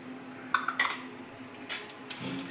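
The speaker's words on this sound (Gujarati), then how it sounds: "હવે આ ચેવડો આપણે નાખી અને મિક્સ કરી લઈશું" Sabudana khichdi being stirred with crunchy chevdo in a pan, with a few soft clinks and scrapes of a spoon against the metal, faint and close, no voices.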